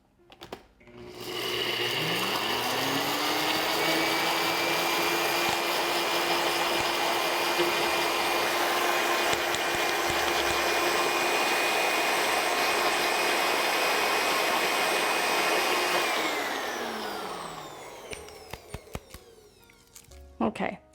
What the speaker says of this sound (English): I've got 1 cup of organic rolled oats that we're going to make into a flour really quick, just in our NutriBullet here